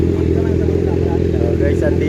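Motorcycle engine idling and revving steadily with exhaust rumble, a continuous loud mid-range drone with some clatter, close by throughout.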